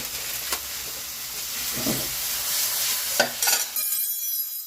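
Spaghetti noodles going into a hot pan of seafood soup, giving a continuous sizzle and steamy hiss with a few soft stirring knocks, fairly close and without talk.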